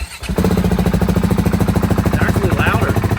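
KTM 690 SMC R motorcycle engine starts up and runs at a loud, close, steady idle with a rapid throbbing pulse.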